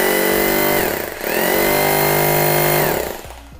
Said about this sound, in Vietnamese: Chức năng khoan búa, chức năng tạm thương hiệu Boss nè anh em.